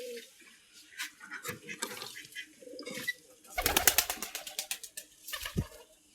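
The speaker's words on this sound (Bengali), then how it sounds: "আজকে কবুতরগুলো সকাল সকালে ছেড়ে দিচ্ছি।" Pigeons are let out of their coop in the morning: scattered soft coos and fluttery bird sounds, then a burst of loud wing flapping as the flock takes off, with faint background noise.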